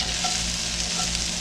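Thick cut bologna sizzles and fries steadily in a hot pan, a dense continuous crackle with no voices.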